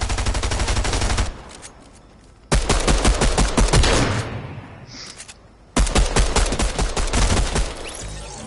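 Gunfire in a PS4 shooter game, three long loud bursts of rapid automatic shots close by, separated by short quieter gaps.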